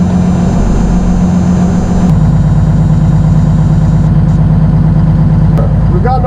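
A 1985 Peterbilt 359 truck engine idles right after starting, with a loud, low, steady diesel rumble and a faint whine above it. A voice briefly speaks over the idle.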